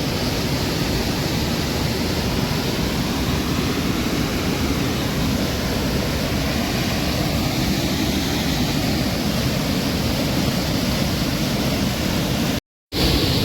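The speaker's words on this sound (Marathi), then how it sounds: "धबधबा धबधबा." Kumbhe waterfall roars in a constant, loud wash of falling water that fills the scene without letup, broken only by a brief cut near the end.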